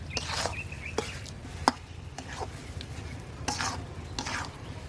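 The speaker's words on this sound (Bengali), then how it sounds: "হালকা আঁচে রেখে মশলার সাথে ডালটা ভালো করে কষিয়ে নিচ্ছি।" Masoor lentils with spices and salt sizzle in a pan over low heat while a spoon stirs and scrapes repeatedly, leaving sharp irregular clacks above a quiet, continuous fry.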